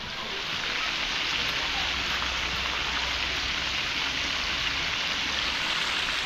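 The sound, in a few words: heavy rain falling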